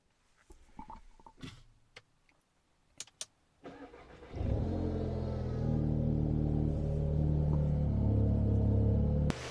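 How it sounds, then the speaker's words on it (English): Audi S3 8V engine cranks and catches after some handling noises, then settles into a steady, loud idle as it runs to warm up, close by with no talk. "so what we're going to do is start the car. Just run it for a little bit, let that warm up until it's over 20."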